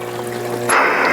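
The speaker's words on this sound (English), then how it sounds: "Do you see that water come up and over?" Water from a primed well rushes up through a pipe and spills over, a steady near gush of flow that swells louder partway through, with no talking.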